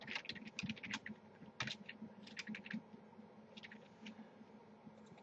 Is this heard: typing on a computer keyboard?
yes